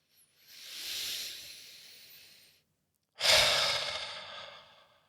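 Two long, forceful breaths of a breathing exercise for anxiety: a slow airy exhale lasting about two seconds, a pause, then a sharper, louder push of air that fades gradually, very close with no talking.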